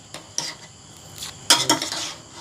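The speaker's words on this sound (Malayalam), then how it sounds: "ഇത്രയ്ക്കും ചക്കയെ ഒന്ന് നമുക്കൊന്ന് ഇളക്കി വെക്കാം" Jackfruit stir-fry being turned in a pan with a metal spoon: a few sharp clanks and scrapes, a louder cluster near the end, close by and with no voices.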